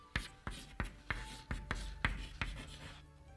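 Pen or pencil writing on paper, about nine quick close scratchy strokes in an even rhythm, faint and alone.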